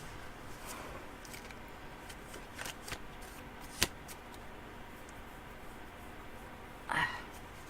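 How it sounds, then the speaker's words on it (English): Tarot cards being shuffled by hand give off a faint, steady papery rustle with a few soft riffles and one brief snap, and a sharper flurry comes near the end. "Shuffling these cards, they'll be shuffled perfectly."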